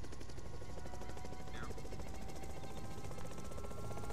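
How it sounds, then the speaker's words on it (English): A little bird helicopter flies in the DayZ Epoch video game, giving a steady, loud rotor chop and engine drone throughout, with voices faintly under it. "we're gonna take the chopper up north and try and stash it somewhere"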